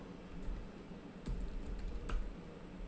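Quiet clicking of keys on a computer keyboard as answers are typed, a few soft taps scattered over low room hum with no talking.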